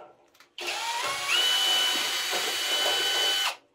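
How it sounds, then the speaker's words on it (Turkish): A cordless drill runs in a workshop, a single continuous burst of about three seconds with a whining motor tone that steps up in pitch, starting and stopping abruptly, close to the microphone. "Elindeki matkap diyorum."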